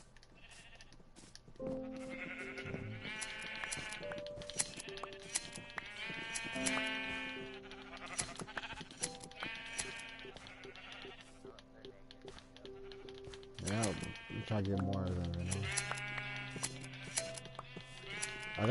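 Sheep bleating repeatedly from an automatic sheep farm in a PS4 video game, several overlapping calls close and clear, with a person talking quietly among them.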